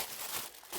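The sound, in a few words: tissue paper being crumpled and stuffed inside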